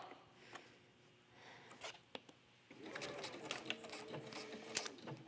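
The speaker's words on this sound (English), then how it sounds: "All right, so let's just sew this down the middle." A sewing machine stitches a straight line through cork fabric with metallic thread, starting with a few faint clicks and then running in a steady, quiet mechanical whir of rapid stitches.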